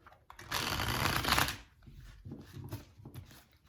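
Tarot cards shuffled in the hands, a dense papery riffling burst of about a second followed by several softer shuffles, close and alone.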